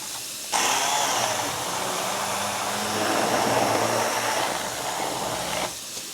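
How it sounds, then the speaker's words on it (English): A hand blender purees chili in a pot, running with a steady loud whirring drone from start to finish, switching on abruptly and cutting off near the end. "All right, so let me grab my hand blender."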